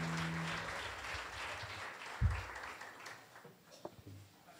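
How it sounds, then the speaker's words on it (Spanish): A church congregation at a Wednesday service in Barquisimeto, Venezuela applauds for the Lord, a moderate, uneven patter of claps with a few louder thumps and some murmuring voices underneath, tapering off toward the end. "Un aplauso al Señor, hermano."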